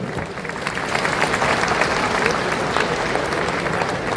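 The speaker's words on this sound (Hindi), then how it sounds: "तालियों की गड़गड़ाहट रोक लेगा" Thunderous applause from an audience at a political speech in Bihar, dense and steady clapping from a large crowd, loud and close, with no talk over it.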